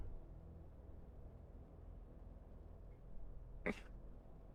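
One brief throat clear, close but faint, rising once out of a quiet, hissy background near the end.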